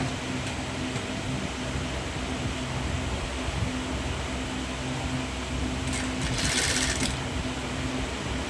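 Sewing machine running steadily while stitching a scalloped neckline onto a printed shirt, a continuous close motor whir with no talking.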